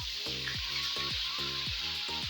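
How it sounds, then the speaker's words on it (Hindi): Ginger garlic paste frying in a pan with cumin, fennel and nigella seeds, a steady sizzle broken by a few soft stirring strokes, close and moderately loud with no talking. "अदरक लहसुन को 1 मिनट तक भूनेंगे।"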